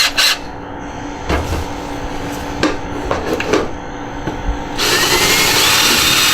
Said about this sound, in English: I'm going to use a hole saw today, and just regular old cordless drill works